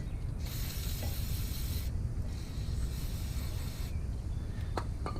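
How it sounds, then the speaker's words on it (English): Brake cleaner sprayed onto the brake caliper of a 2000 C5 Corvette, bursts of hissing aerosol spray, each about two seconds long and separated by brief pauses, close and steady with clicks near the end. "And then we can take our brake cleaner"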